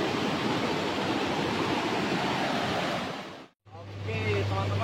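Water from an overflow channel pours steadily into the Salu Anoa river near Mangkutana, a loud, continuous rushing wash. It cuts out briefly near the end, then returns with a low hum beneath it.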